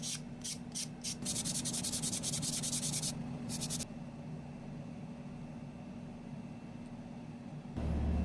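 A guitar headstock being sanded by hand, steady scratchy rubbing strokes up close, rapid and dense at first then settling into a softer continuous rasp.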